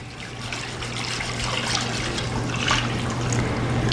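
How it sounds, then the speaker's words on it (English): Chicken broth poured into a pan while being stirred for gravy, a constant close trickling stream with a low steady hum beneath, no voices. "We're just gonna pour that right into the pan, just stir as it goes in so we can get everything mixed together."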